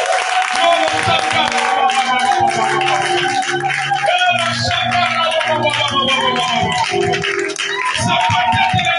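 Church congregation clapping for Jesus during a worship service, a steady wash of applause mixed with loud music and voices running throughout.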